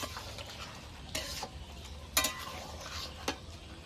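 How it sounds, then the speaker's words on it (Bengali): Meat curry cooked with young jackfruit, stirred in the pot after garam masala goes in: a few distinct scraping strokes of a spoon over a soft, low simmering hiss, with no talk. "এবার গরম মশলা দিয়ে নেড়ে চেড়ে"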